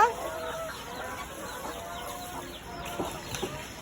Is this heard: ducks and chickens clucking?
yes